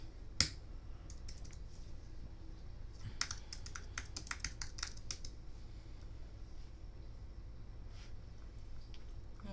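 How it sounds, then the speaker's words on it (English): Fingers tapping on a computer keyboard in a home crafting space, the keystrokes coming in quick irregular bursts and then thinning out, close and fairly quiet over low room hum. "Let me grab my keyboard."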